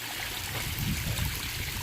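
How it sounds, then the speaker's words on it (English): Water pours steadily down a backyard koi pond waterfall, a continuous close splashing rush with no pauses and no voices over it. "I originally didn't have such high water pressure coming down the waterfall"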